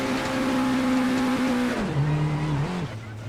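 Race car engine in the Assetto Corsa racing game, running steadily on the pit limiter with a loud, constant buzzing drone that drops in pitch twice near the end, with no talk.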